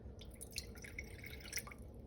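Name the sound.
water poured into sourdough starter jar on scale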